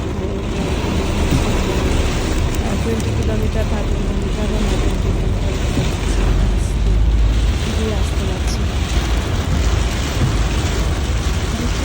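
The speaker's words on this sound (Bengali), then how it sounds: "সে বৃষ্টি ছিল যে গাড়ি চালানো যাচ্ছে না" Heavy rain drums on a car driving on a highway, a loud, dense, steady roar of rain and road noise that runs throughout, with a person talking over it.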